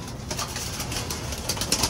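Pigeons coo steadily inside a pigeon loft on a hot day, a close, continuous chorus of soft throaty calls with no talking.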